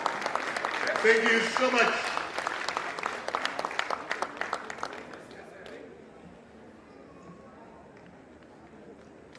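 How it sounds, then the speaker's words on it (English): Audience applause at an Africa Public Service Day gathering in Uganda, loud and dense for the first several seconds, then thinning into scattered claps and fading out, with a voice speaking over it. "Let's clap for them as they go."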